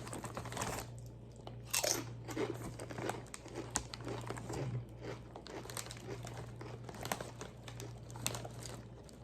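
Blue cheese flavored Doritos tortilla chips crunched while eating, with repeated crisp crinkly bites and chewing close up, steady throughout with no talking.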